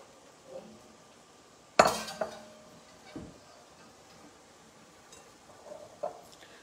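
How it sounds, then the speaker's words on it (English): A metal slotted spoon clinks against a pot while lifting boiled pasta noodles out, one sharp clatter followed by a few softer scattered knocks and taps, close and fairly quiet. "it's slotted, so it's easy to stir and it's also easy to fish my pasta out"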